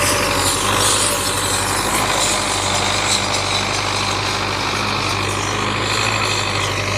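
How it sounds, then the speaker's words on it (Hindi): A tractor engine chugs steadily nearby as it arrives in a village field for ploughing, its low rumble continuous and loud with no talking. "ये ट्रैक्टर को अभी आप देख लो, अभी आ गया है ट्रैक्टर।"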